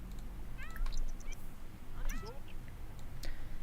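A cat in The Sims 4 meows several times in short, rising calls, moderately close, over a steady hum of background game ambience and music.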